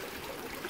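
Water runs continuously through an aquaponic tank, a soft, steady trickling flow that stays close and fairly faint, with no talking.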